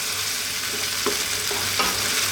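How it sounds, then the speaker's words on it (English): Tomato sauce with mushrooms and bell peppers cooking in a pan on low heat, a constant close sizzle and bubbling hiss with a few soft stirring knocks, no talk. "Simply stay on this low heat, let this go for about 5 to 6 minutes."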